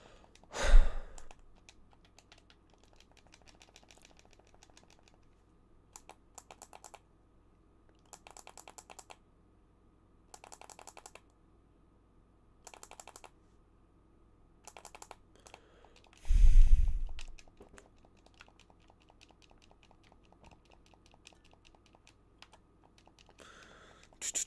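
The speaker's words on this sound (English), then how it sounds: "Or do you just want to hear my ASMR controller clicking?" Game controller buttons click during a God of War: Ascension speedrun, sparse bursts of faint rapid clicking separated by quiet gaps, with two louder sighs or breaths.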